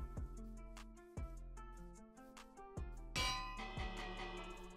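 A bell in Minecraft is struck several times, each clear metallic ding ringing out and decaying before the next strike, fairly quiet with no talk.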